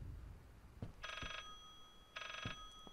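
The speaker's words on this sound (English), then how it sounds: "Oh, not the phone again." Old telephone in the Layers of Fear game rings in two distinct bursts, each a bright electric bell trill about a third of a second long, separated by a pause, over a low dark ambient rumble with a faint thud.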